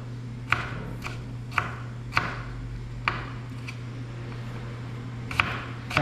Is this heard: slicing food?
yes